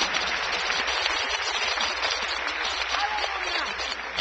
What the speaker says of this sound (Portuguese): Se você puder, aplauda o nome do Senhor Jesus.